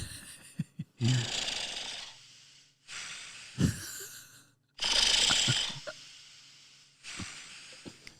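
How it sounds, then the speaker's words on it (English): Slow, heavy snoring breaths of a sleeping warthog repeat at a steady pace, each a rough raspy rush of air with snorting grunts in between, fairly quiet. "that was a YouTube clip of, I think, a warthog sleeping. Snoring."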